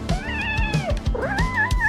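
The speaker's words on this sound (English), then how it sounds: "Uh-oh, you've made Kitty cry." A cat cries in a series of drawn-out, wavering meows, loud and close, over a steady thumping beat.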